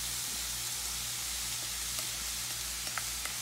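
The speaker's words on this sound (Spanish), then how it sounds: "Luego vamos a incorporar el repollo picado." Chopped cabbage hits a hot pan with a steady, close sizzle that fills the whole stretch, a few small pops rising above it near the end, and a low hum running underneath.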